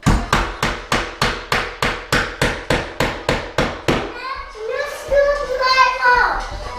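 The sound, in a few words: hammering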